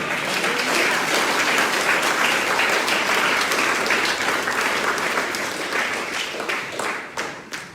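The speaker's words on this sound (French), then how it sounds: "Bénissons Dieu et applaudissons le Seigneur" A church congregation applauds the Lord during a sermon, a full, loud wash of many hands clapping steadily for several seconds before thinning and fading near the end.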